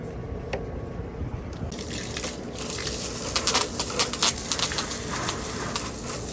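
Water runs and splashes steadily over a turtle pond filter being rinsed to loosen algae, a continuous close trickle that swells into heavier splashing and dripping, with no voices.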